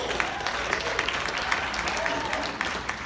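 Audience applause at a comedy show, a steady wash of clapping from a crowd held at an even level throughout, with no speech over it.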